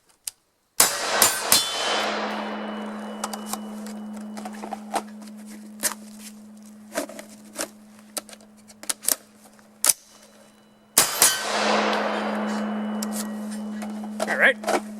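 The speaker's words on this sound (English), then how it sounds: "let's do a reload with a Lancer mag." Sharp metallic clacks and rattles as a Lancer magazine is pulled from an LBV-88 Enhanced vest and seated in a rifle, several crisp close impacts over a low steady hum, with a second burst of handling near the end.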